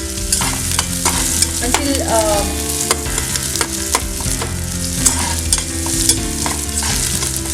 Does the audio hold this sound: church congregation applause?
no